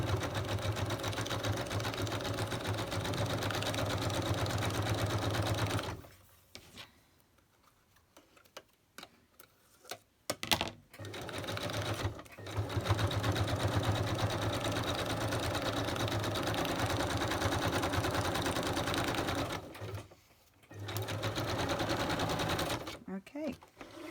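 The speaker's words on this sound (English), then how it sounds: "bring my sewing machine over because I think I've got time" A sewing machine stitches around a damp paper bag embellishment, running in long steady mechanical bursts broken by pauses, with a person talking during the stops.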